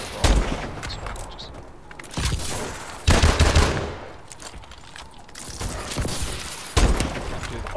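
SVO rifle gunshots in a video game ring out as four loud, sharp reports spaced a couple of seconds apart, each followed by a decaying tail over low background noise.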